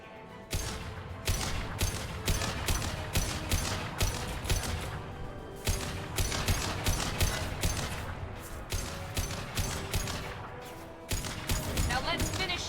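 Repeated bursts of gunfire from a gun in the video game Mass Effect 2 on Insanity difficulty, loud, rapid shots in clusters with brief pauses, over continuous game combat noise.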